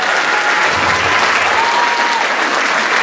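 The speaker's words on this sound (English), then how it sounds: "Let's give another warm round of applause to all of our wonderful performers." An audience gives a warm round of applause to performers at a fall movie concert. Loud, dense clapping holds steady from start to finish, with a faint thin tone drifting through the middle.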